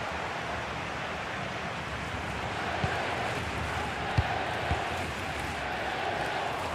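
Stadium crowd noise from the FC 26 football video game forms a dense, steady roar throughout, with no individual voices standing out.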